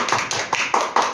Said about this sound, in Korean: 박수 한번 쳐줘야 될 것 같아